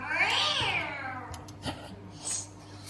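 A person imitates a cat's meow with one long rising-and-falling wail, then a couple of short, fainter meow-like sounds follow.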